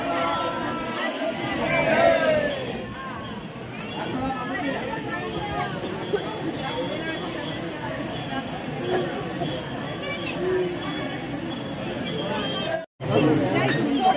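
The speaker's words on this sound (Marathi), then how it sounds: "त्याच्यामुळे संध्याकाळनंतर मात्र भयानक गर्दी झालेली होती." Dense, steady babble of a large evening crowd of pilgrims at a Swami Samarth temple during Diwali, many voices blending into a constant hubbub with a speaking voice over it.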